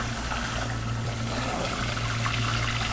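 Water runs steadily from a salon rinse spray over hair, a continuous close hiss and trickle with no break and no speech.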